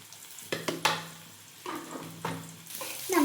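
Sliced onions with a little salt sizzle quietly in a pan while a spoon stirs them, giving several distinct scraping bursts over a soft, steady frying hiss.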